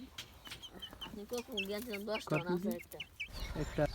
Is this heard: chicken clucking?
yes